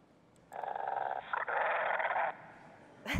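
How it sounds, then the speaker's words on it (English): Robot growl sound effect played from a LEGO MINDSTORMS EV3 sound block, a buzzy, rasping synthetic snarl in two sustained bursts of about a second each, with a brief break between them and a thump at the end. "I'll use a sound block to make Znap growl and scare her"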